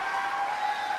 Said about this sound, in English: listen to all those people cheer while he nods his head that doxing is okay